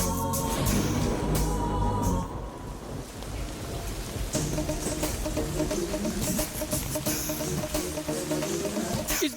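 Steady heavy rain falling as a dense, continuous hiss, loud and close throughout, with a rumbling wash underneath.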